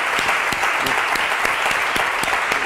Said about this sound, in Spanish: Vamos a aplaudir al Espíritu Santo.